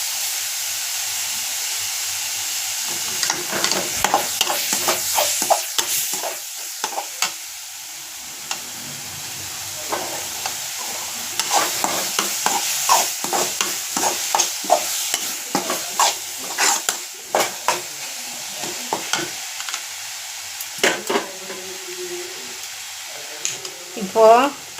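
Onions and curry leaves sizzle in a pan while a spoon stirs them in repeated scraping strokes, a steady hiss of frying underneath, with a few quiet pauses between bursts of stirring.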